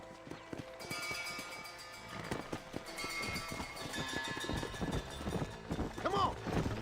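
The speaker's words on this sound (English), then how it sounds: "O cavalo veio mais rápido, hein?" A horse gallops in the Red Dead video game, its hooves pounding in a fast, steady clip-clop rhythm that grows louder and busier, with a brief whinny near the end and faint game sounds around it.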